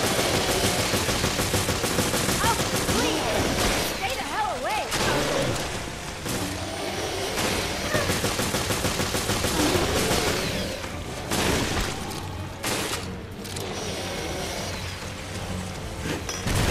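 Gunfire in Resident Evil Revelations on PS4, repeated loud shots and bursts mixed with mechanical game noise, dense and sustained through the clip, with some talk.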